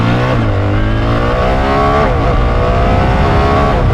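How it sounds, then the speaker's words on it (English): A 2024 BMW R1300 GS motorcycle accelerating hard with gears changed manually by foot: loud, close engine roar climbing in pitch, dipping briefly at a shift around the middle before pulling up again. "This time we'll select the manual change, so I'm going to be changing the gears myself with my foot."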